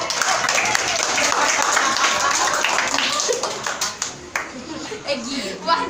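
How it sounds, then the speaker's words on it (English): A classroom group claps for a student presenter after a talk on bullying, a loose burst of hands that thins out toward the end, with chatter and a chuckle mixed in. "clap for him."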